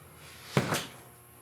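A door in a small solar-powered tiny home swings shut with a single soft thump followed by a quick latch click, close and brief within a quiet room.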